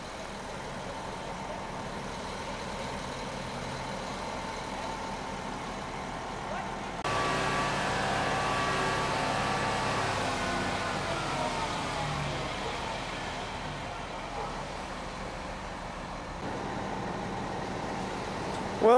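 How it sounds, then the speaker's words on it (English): A concrete pumper truck idles at a foundation pour for a footer and ICF wall, its engine giving a steady mid-pitched drone that swells louder after several seconds, with faint voices in the background. "Okay, we're ready to pump. Pumper truck's here."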